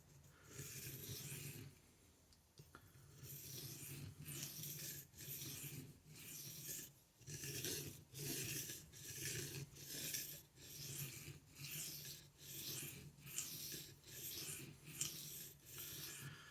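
A blade sharpened on a 12,000 grit whetstone, a quiet, rhythmic series of rasping strokes, roughly one per second, close and steady.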